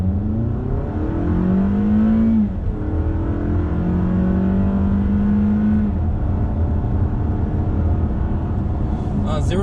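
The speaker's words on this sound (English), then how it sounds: "To do a slight acceleration run" A 2020 Toyota Camry AWD sedan revs up and accelerates hard from a standstill, rising through gear shifts, loud and close, with a voice speaking over it.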